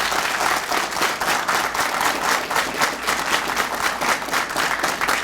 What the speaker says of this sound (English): You guys need to applaud them for coming out to support you.